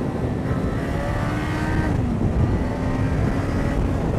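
Motorcycle engine climbing the Col de l'Espigoulier road, a steady close droning hum that eases slightly as the throttle is backed off, with continuous wind rush and no voices.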